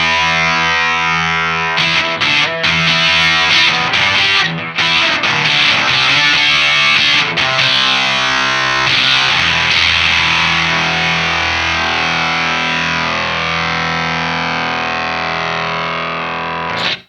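An electric guitar plays through a Jam Pedals Octaurus LTD octave fuzz pedal, giving loud, thick distorted chords and notes that ring continuously, with brief breaks between strums, before stopping abruptly.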